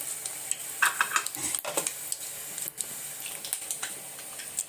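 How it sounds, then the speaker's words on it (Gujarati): Mustard seeds sizzling in hot oil for poha, a faint crackling sizzle with scattered pops, utensil clinks and stirring sounds in a home kitchen. "તેલ મૂકી દીધું છે, રાઈ નાખી."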